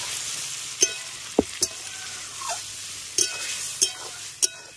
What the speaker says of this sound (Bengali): মটর আর আলুটা দেওয়ার পর মশলার সঙ্গে আগে সেটাকে খুব ভালো করে কষাতে হবে।